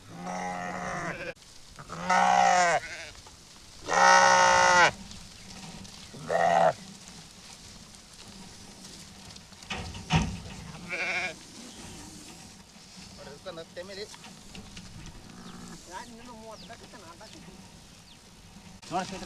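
Several loud sheep bleats ring out one after another over a murmur of background voices and farmyard noise.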